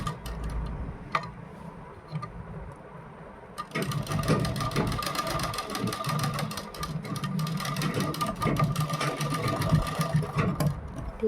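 An electric sewing machine stitches the neckline of a kurti with buckram, a few brief bursts of rapid mechanical clatter followed by a long, steady run of fast stitching up close.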